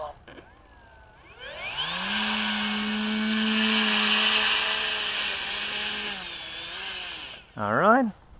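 An FMS Kingfisher RC plane with a 700kv motor and 12x6 prop on 3s spools up into a loud, steady buzzing whine, holds for several seconds, then winds down before a short sharp rev at the end.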